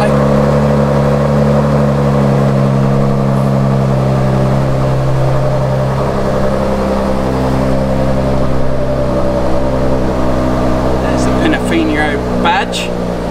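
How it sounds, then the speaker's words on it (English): A Bentley's engine idles just after starting, a loud, steady low hum with a constant drone throughout and a few brief clicks near the end. "Just started up the Bentley"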